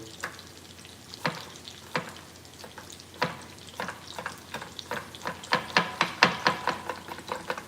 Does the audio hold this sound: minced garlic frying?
yes